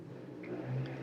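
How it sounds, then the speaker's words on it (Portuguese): Motorcycles passing outside a lecture room, a low, faint engine rumble that swells slightly toward the end of a brief moment. "Tem umas motos aqui que eu vou te falar."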